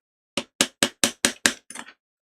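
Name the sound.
hammering a stencil into position during PS4 repair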